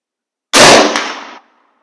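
A single sharp, loud rifle shot from an M-96 Swedish Mauser, an abrupt close blast that fades out over about a second.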